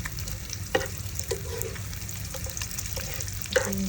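Dried fish frying in hot oil in a pan, ala lechon style, giving a steady close crackling sizzle with a few sharper clinks of stirring, no talk.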